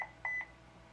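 Electronic beeps from a small security camera sound close by: a short beep, then a longer tone that blends into a third, quiet with a faint background hum.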